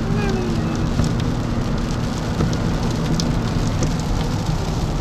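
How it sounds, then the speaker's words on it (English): Steady rain hisses in a dense, even wash at Myrtle Beach, close and continuous with no pauses. "We're hoping the rain clears up."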